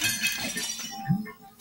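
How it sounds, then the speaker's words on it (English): Glass breaking: a short burst of bright clinks and shattering fragments, close and fairly loud, with a lower thud near the end as pieces settle, lasting under two seconds. "I broke half of the glass."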